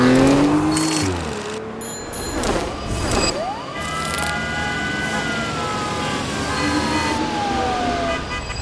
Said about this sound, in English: let's see how this sounds with the Aston Martin sound effect